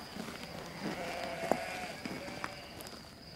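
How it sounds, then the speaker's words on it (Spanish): Sheep bleat a few times in an outdoor pastoral setting, fairly faint and distant, heard over a low ambient hiss with no voices. "Después se vuelven a guardar sus ovejas."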